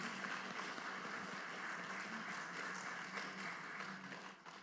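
A church congregation applauding in welcome during a Sunday service, a steady, even wash of many hands clapping for several seconds, heard at a distance and fairly faint.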